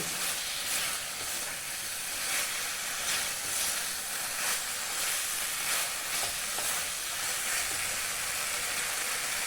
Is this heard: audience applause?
no